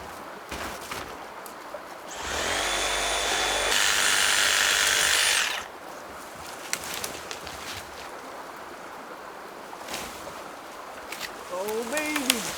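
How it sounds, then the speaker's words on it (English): A power tool fitted with a pruning blade cuts through soft pine wood beside a creek, one loud whining cut lasting a few seconds, then quieter clatter and rustling outdoors. "These pruning blades do work on soft wood. Pine doesn't stand a chance."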